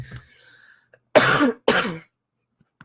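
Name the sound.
cough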